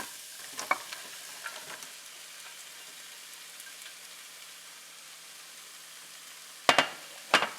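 Squash is stirred in a pan for a squash casserole, with a faint, quiet sizzle and a few light scrapes early on, then a couple of sharper spoon knocks near the end.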